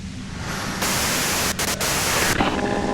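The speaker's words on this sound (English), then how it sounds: "you can do it through the white noise" Radio white noise static in the Disco Elysium video game: a loud, continuous hiss that swells after the first second, with two brief dropouts in the middle and a slight shift near the end, no talking.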